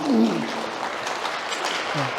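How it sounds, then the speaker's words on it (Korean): Church congregation gives a round of applause of glory to God at the close of a Sunday service, a moderate burst of clapping from a room of people, with a voice speaking at the start and again near the end. "우리 영광의 박수 하나님 올리겠습니다."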